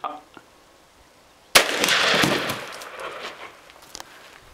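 A homemade potato gun fires with one sudden loud blast, followed by a rushing, crackling decay that fades over a few seconds outdoors.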